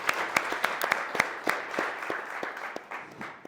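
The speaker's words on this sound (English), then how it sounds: "Let's give her a round of applause." An audience at a real estate agent panel event gives a short round of applause, dense overlapping claps at moderate distance that fill the whole moment.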